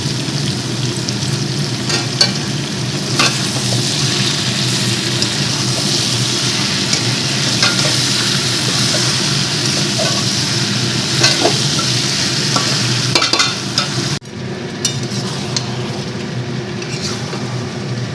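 Masala being sautéed for homemade vegetable biryani, a long close sizzle with repeated stirring and scraping in the pan, briefly dropping in level near the end as the heat or pan shifts.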